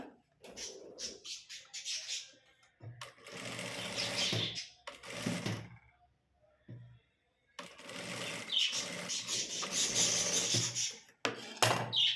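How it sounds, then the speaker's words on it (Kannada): A sewing machine stitches a shoulder seam in several close, whirring runs of rapid needle clatter, broken by short silent pauses, heard alone without speech. "ಅದಕ್ಕೋಸ್ಕರ ನಾವು ಎರಡು ಸ್ಟಿಚ್ಚನ್ನ ಹಾಕ್ಕೊಳ್ಳೋಣ"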